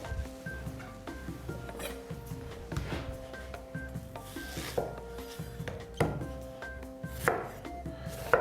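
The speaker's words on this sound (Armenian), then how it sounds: "մինչ այն տաքանա մանր կտրատում ենք սոխը։" Onion being finely chopped with a knife while cooking, a quick run of crisp, close knife strikes in uneven bursts, loud and alone with no talk.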